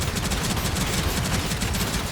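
Cannon fire in a Gundam video game roars in a dense, continuous volley of rapid blasts, loud and unbroken throughout.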